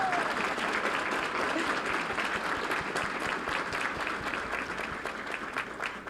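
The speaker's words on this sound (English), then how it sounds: "We can clap for them and then move on." Sustained crowd applause at a school board meeting honoring boys basketball playoff teams, steady and dense throughout, fading slightly toward the end.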